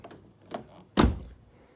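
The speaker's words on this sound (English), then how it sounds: "This car has automatic door locks, has a sensor here that detects your key in your pocket if you have it with you. And when you press it, you can lock it" A 2008 Mazda Miata MX-5 locks by keyless entry with a soft click, then a firm, close thunk of the lock mechanism that decays quickly, with no voices.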